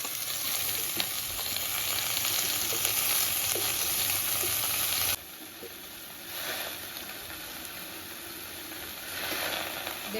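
Chopped taro stems dry-fry in a wok with no oil, giving a continuous close sizzling hiss that drops in level halfway, followed by occasional stirring scrapes.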